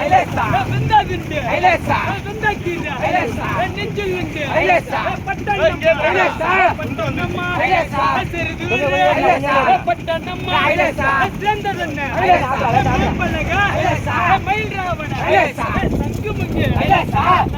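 Fishermen on a boat shout together in rhythm as they haul in a fishing net by hand. Loud, overlapping voices continue steadily over wind and open-water noise.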